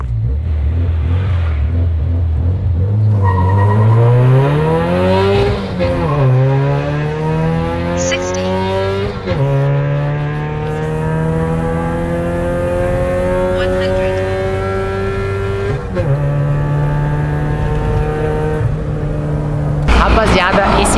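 Chevrolet Celta fitted with a 1.8 Cobalt engine accelerating hard, its revs climbing steeply through several gears with brief dips at each shift, loud and close throughout.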